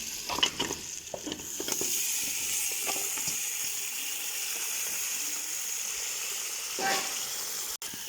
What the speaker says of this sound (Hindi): I have added my pie in it, and now I am going to add bones.